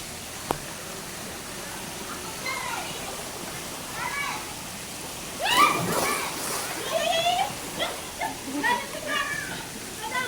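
A crowded resort pool full of bathers, with scattered splashes and sloshing water mixed with children's voices and nearby talk, the sounds rising and falling in short bursts.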